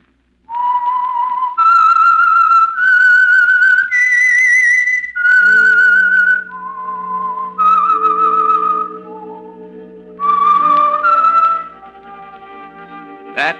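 A loud, clear whistled theme melody of the old-time radio mystery program The Whistler, rising and falling in sustained notes, with brief lower accompanying tones toward the end, no talking.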